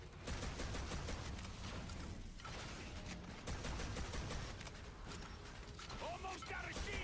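Guns firing in a video game, dense rattling bursts and mechanical clatter continuing throughout over a loud game soundscape, with a faint voice at times.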